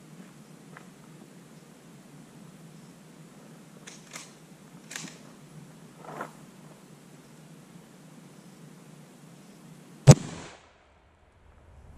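A .308 rifle fires a full load of 30 caliber 175 grain bullets into ballistic gel, a single sharp, loud crack near the end that follows a few faint rustles and clicks in a quiet setting.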